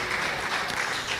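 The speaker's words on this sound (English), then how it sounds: "Give him a hand clap of praise before you're seated." A church congregation claps hands in praise, a dense, steady wash of many hands applauding together at close range for the whole moment, with no voices standing out.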